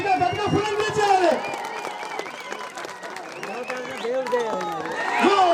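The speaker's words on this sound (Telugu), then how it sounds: "గట్టిగా చప్పట్లు కొట్టండి" Crowd clapping to cheer someone on at a village Sankranti celebration, a steady wash of hand claps running throughout under loud overlapping voices and shouts.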